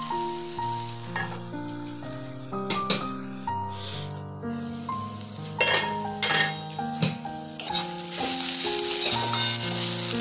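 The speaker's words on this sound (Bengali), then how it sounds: "তাহলে শাক ভাজাটা প্রায় হয়ে গেছে।" Chana saag greens fry in a pan with a bright sizzle under music, punctuated by metallic scrapes and clinks of a utensil against the pan, and the sizzle swells louder toward the end.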